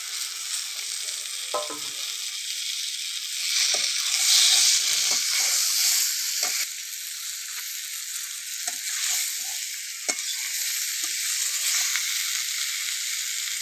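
Fried eggplant dropped into hot oil with chilli powder and other spices for a fish curry, bursting into a loud sizzle that swells midway and then settles into steady frying with occasional stirring.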